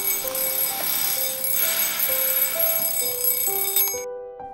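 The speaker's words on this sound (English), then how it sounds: "At precisely 6:13 every morning, Drake Stapler wakes up to his alarm." A morning alarm clock rings loudly and close, a bright electronic beeping with stepping tones that continues steadily and then cuts off abruptly at the end.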